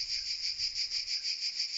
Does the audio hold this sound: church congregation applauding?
no